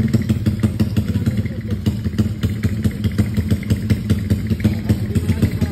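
A Honda CB motorcycle engine idles loud and close with a rapid, pulsing clatter and rhythmic thumps, continuous across the whole stretch.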